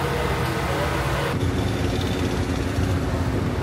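An All-Pro 283-5 engine in a non-wing sprint race car at Circle City Raceway idles loudly and steadily nearby, a dense, continuous mechanical drone with a slight shift partway through.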